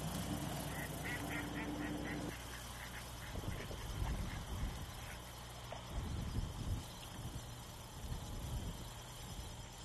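Ducks and geese calling at Blackwater wildlife refuge in Maryland, a chorus of repeated quacks and honks of varying distance over a steady outdoor background, with no voices.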